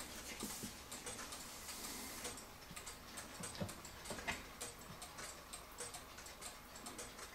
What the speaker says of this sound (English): It has the nice even tick-tock sound to it.